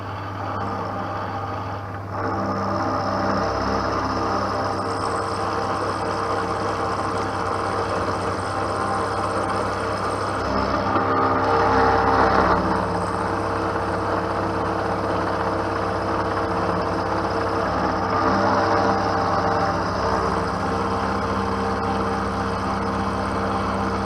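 A milling machine takes a light cut across the top of a metal block. It gives a steady, loud mechanical drone with a constant motor hum and a faint whine from the cutter, holding evenly for over twenty seconds after starting up.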